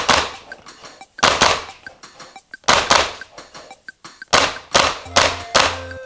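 A VFC UMP9 airsoft gun with a silencer attached fires short bursts and single shots, giving crisp close-up pops and thuds in uneven clusters separated by brief pauses.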